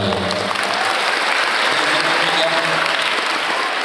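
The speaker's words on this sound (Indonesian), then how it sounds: "Tepuk tangan untuk Darul Mughni Al-Maliki." Sustained applause from a large crowd of students at an Islamic boarding school, Pondok Pesantren Darul Mughni Al-Maliki, dense steady clapping filling the hall with a faint voice underneath.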